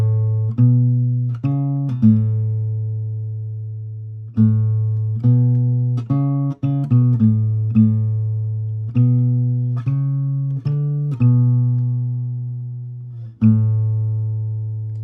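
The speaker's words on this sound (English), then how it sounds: "there's a bassline riff that goes through the chorus," Bassline riff from the chorus of a song, played as a melodic line of sustained low notes that ring and decay, with quick bursts of shorter notes in between; clean and close, with no voices.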